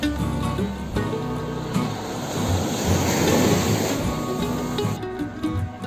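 Ocean waves breaking on the sand at Paku Beach in Kelumbayan, Tanggamus, Lampung, a continuous close roar of surf and wash that swells and eases without pause.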